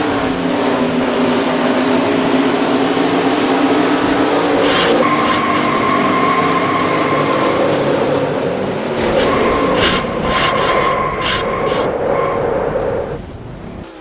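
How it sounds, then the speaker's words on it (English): A NASCAR race car crashes in the NASCAR Racing 2003 video game: a steady, loud engine drone with brief skidding tire squeals partway through, then a sudden drop-off near the end, with no talking. "Involved in this crash, she goes up in the air."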